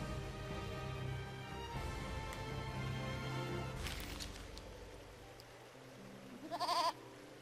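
Goats bleating in the Eternal Sonata video game over a background of music, a few wavering bleats with a louder one near the end, with no talking.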